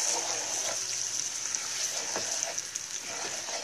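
Garlic ginger paste sizzling in hot ghee, a steady, close hiss of frying with faint stirring ticks throughout.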